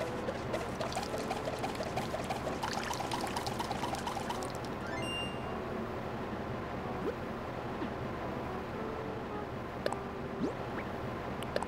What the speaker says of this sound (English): Go drip drop on the sink.